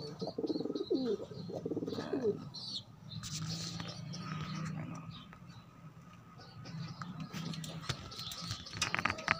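Flyer pigeons cooing and calling in a low, murmuring burst, with chirps and scattered bird calls around them; a voice speaks briefly near the start.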